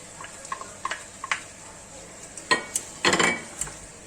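A utensil stirs carrots, onions and bean sprouts in a hot pan with seared meat for Chinese noodles, giving light scraping clicks and soft sizzle, followed by a couple of louder clattering scrapes near the pan.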